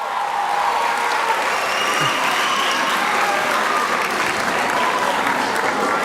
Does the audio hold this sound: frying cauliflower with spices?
no